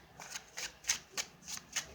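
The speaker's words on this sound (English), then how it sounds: "let me shuffle a little bit more" Tarot cards are shuffled in quick, soft riffling bursts, about six papery flicks in a steady rhythm, close and fairly quiet.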